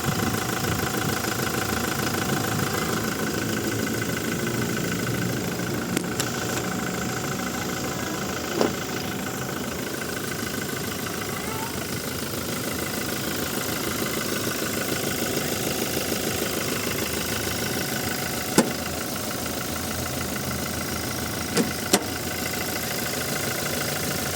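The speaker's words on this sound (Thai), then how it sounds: "ตอนนี้เซลเอ็มสตาร์ทเครื่องอยู่นะ เสียงเงียบเลย เครื่องไม่มีสั่นเลยค่" A 2023 Toyota Hilux Revo pickup's engine idles steadily and smoothly, humming continuously with a faint knocking rumble, with a few soft clicks but no talking.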